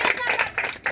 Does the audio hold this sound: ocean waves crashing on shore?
no